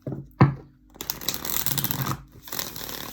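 Tarot cards are shuffled by hand at close range, with one sharp snap and then a soft riffling rustle that rises and fades in short bursts.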